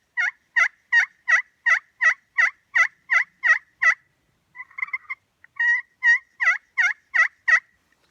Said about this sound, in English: that's going to be your basic yelp